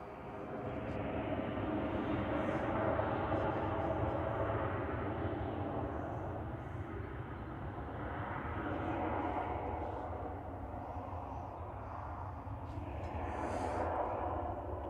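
An airliner at Manchester Airport gives off a steady, distant jet roar that holds for the whole stretch, fairly faint and broad, with no voices over it.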